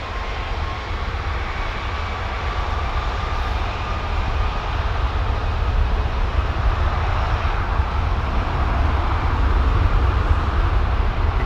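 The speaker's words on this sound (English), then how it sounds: "The long spool up of the Trent 700, man" Rolls-Royce Trent 700 jet engines spooling up for a departure at London Heathrow, a loud continuous roar building steadily in intensity with a rising whine, no voices.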